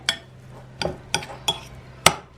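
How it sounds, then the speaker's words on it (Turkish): A spoon stirring cooked bulgur in a bowl for kısır, giving five sharp clinks against the bowl at an uneven pace, close and clear with no talk. "Karıştıralım bunu şimdi."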